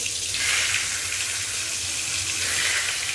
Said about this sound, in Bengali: প্রথমে পটল ভাজবো আমি।